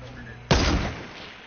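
A single heavy blast from a grenade launcher in Fortnite's 50 vs 50 mode, a sudden loud boom with a rumbling tail that fades over about a second.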